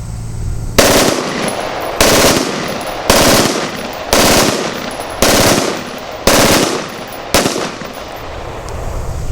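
An IWI Tavor X95 Micro rifle fires full auto in seven short, sharp bursts at a steady rhythm, loud and close with a ringing tail after each burst.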